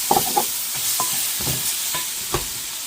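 Spices sizzle in a pan for a chicken curry while a spoon stirs and scrapes against the metal in short, irregular strokes over a soft steady frying hiss.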